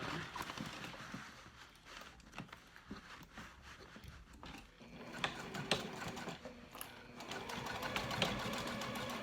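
Sewing machine stitching a crossbody bag, its motor running in uneven bursts of rapid needle clatter with brief pauses while the fabric is maneuvered, growing steadier and louder toward the end.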